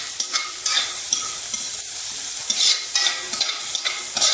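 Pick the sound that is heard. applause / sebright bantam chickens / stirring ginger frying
stirring ginger frying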